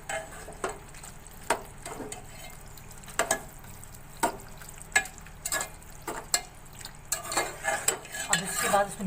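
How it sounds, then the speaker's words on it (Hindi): Macaroni being stirred into a spiced sauce in a pan, with repeated scrapes and knocks of a spoon against the pan over a faint sizzle. The strokes come at an irregular, steady rhythm, close by, with no voices. "अब इसके बाद इसको मिक्स करेंगे अच्छी तरह।"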